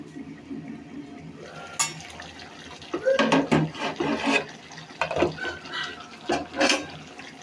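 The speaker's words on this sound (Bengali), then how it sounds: "তারপরে আবার ঝোলের পানিটা দেব এখানে" Water is poured into a pan of cauliflower curry, with a splash and gurgle in bursts among clinks of utensils against the pot, close up and without talk.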